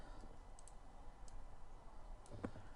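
Scattered clicks of a computer keyboard being typed on, faint and irregular, a few isolated keystrokes over a steady background hiss.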